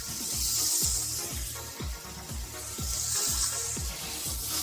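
Small cubes of sun-dried tomato sauté in a pan with a soft sizzling hiss. A rhythmic series of low knocks runs beneath it, like stirring or a pan being shaken.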